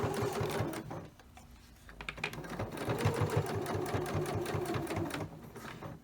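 A sewing machine top stitching a cloth diaper, its rapid rhythmic needle clatter running close and steady in two bursts with a short pause between them.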